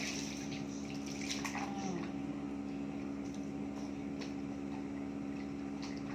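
Water running steadily while a dog named Dako gets a bath, a faint continuous splashing flow with occasional soft clinks and a quiet voice in the background.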